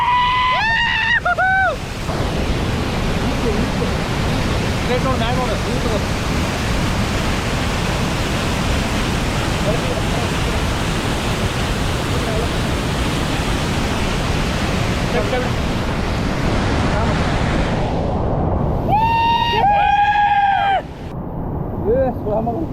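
Devakara waterfall pours in a dense, loud, continuous roar of falling water heard up close. Excited voices shout briefly at the start and again near the end over the rushing torrent.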